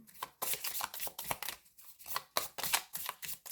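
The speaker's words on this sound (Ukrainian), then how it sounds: "Я спочатку перемішую кожен з цих стовпців." A tarot deck is shuffled by hand in quick bursts, the cards riffling and slapping together in a brisk, uneven rhythm with short pauses between passes, close and fairly quiet.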